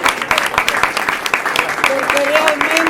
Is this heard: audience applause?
yes